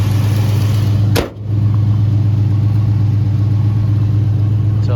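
A 1967 Mercury Cougar engine idles nearby with a steady low rumble and a constant hum. One brief dip and hard click break the sound partway through, then the idle runs on unchanged with no talk.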